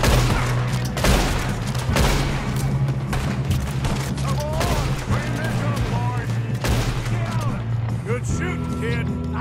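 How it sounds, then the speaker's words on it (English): Gunfire from the Red Dead Redemption 2 train attack, with loud, booming shots in bursts and scattered reports that trail off, alongside voices. "Good shooting, kid."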